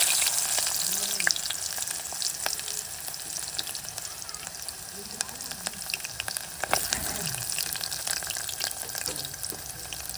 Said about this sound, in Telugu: Oil వేడైపోయింది friends. ఇప్పుడు మనం ఉల్లిగడ్డలు వేసుకుందాం.